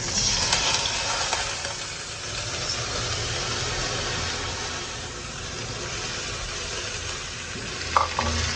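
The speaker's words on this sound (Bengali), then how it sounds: "আমি চাউলটা ভেজে নেব।" Rice fries in a pan with browned fried onions and salt, giving a continuous broad sizzle with soft stirring scrapes and a brief clink near the end.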